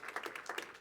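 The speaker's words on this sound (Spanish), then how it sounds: "Denle un aplauso a Cristo" A church congregation applauds in a quiet, distant patter of hand claps, briefly and faintly, with an uneven rhythm.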